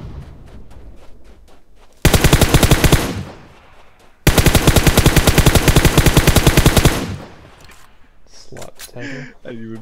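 Two long, loud bursts of rapid automatic M762 rifle fire from the PUBG Mobile game, separated by a short pause, and a player's voice comes in briefly near the end.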